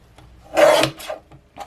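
A paper trimmer slices through a sheet of paper while trimming a vinyl craft piece, giving one short, close rasping cut stroke with a few faint scrapes and rustles before and after.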